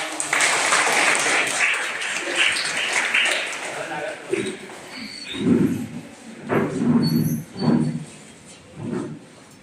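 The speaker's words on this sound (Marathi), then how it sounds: "जोरदार टाळ्या" An audience at a government Marathi primary school assembly in Hindalaga claps in a lively burst that fades, followed by people talking.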